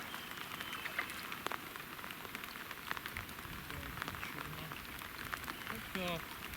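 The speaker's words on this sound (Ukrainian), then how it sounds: "Вон, друзі, йде зараз дощ" Rain falling outdoors during a pike fishing trip, heard as a steady, close patter of drops on surfaces throughout, with people talking over it.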